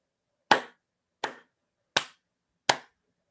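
Four separate claps ring out alone in an even rhythm, each a sharp, close smack with a short decay, as listeners at an outdoor festival storytelling session clap along with the teller's bear-paw tale.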